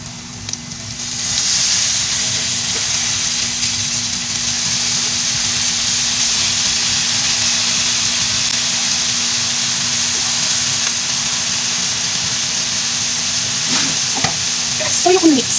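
Vegetables hit a hot pan already browning squid balls and kikiam for pancit bato guisado, bursting into a loud, continuous close sizzle that holds steady, with a few spatula clinks toward the end.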